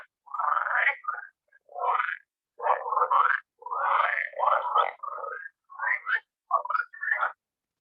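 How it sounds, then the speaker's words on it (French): Green frogs call in a series of short, clear croaking bursts, about a dozen in a loose irregular rhythm, standing alone against silence. "on va écouter leur chant à ces grenouilles vertes."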